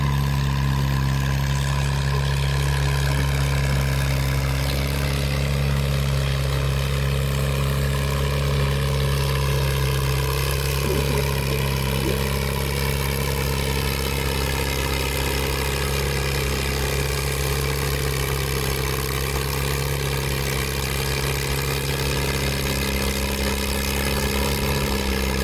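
Antique Allis Chalmers WD45 tractor with a 226-cubic-inch engine labouring steadily at a tractor pull, a loud, continuous low drone that holds its pitch for the whole stretch with no voices.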